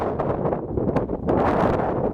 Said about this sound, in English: Got a little breezy here when I got to the ridge line.